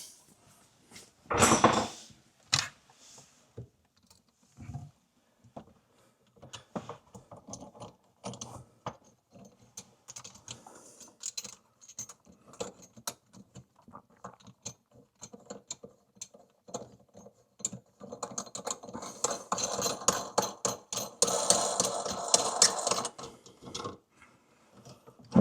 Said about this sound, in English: Let's go ahead and get that on there and tightened up.